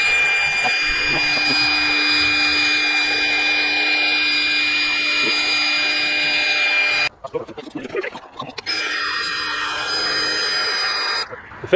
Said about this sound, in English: And turn the fan on.